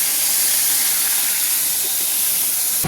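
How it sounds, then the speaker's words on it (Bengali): Ginger and green chilli dropped into hot oil give a loud, steady, close hiss of sizzling that holds evenly for a few seconds, with no voices. "এবার এই আদা আর কাঁচা লঙ্কাটা এই তেলের মধ্যে দিয়ে দিলাম।"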